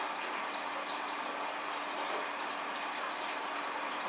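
Water runs steadily into a homebrew kettle for a blonde ale, a continuous broad hiss of pouring and filling that holds at an even level with no talking.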